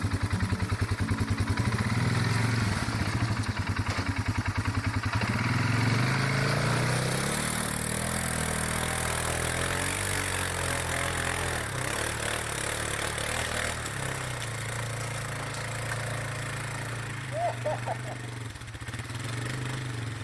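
A motorcycle engine labors up a snowy trail climb in Newfoundland, its loud, steady drone holding throughout with rises and dips in revs as the bike pushes through the snow.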